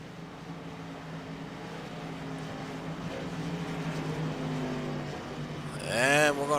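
Stock cars racing at North Wilkesboro during a Saskatchewan stock car championship, a steady blended drone of engines at a distance that swells near the end as a car roars past close by, with no talk heard.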